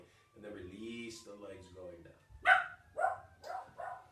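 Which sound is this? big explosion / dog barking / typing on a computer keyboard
dog barking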